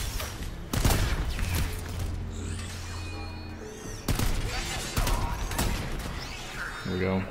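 Turret gunfire in the Strider video game, sharp repeated bursts and crashing impacts over dense game noise, several loud hits spaced a few seconds apart.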